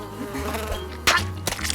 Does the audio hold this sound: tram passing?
no